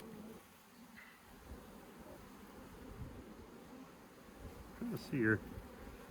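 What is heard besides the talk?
honey bees buzzing in a hive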